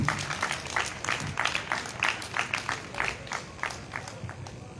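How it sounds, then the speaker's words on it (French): A church gathering claps for a woman at an evening teaching session, a moderately loud round of applause with distinct, rhythmic individual claps pulsing in waves. "Applaudissez-la, s'il vous plaît."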